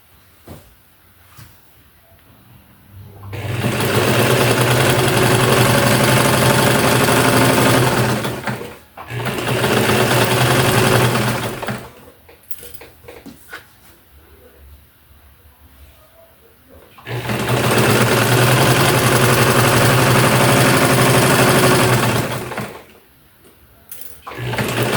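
A sewing machine stitches patchwork pillowcase fabric in three long, loud, steady whirring runs, separated by quiet pauses with faint handling noises.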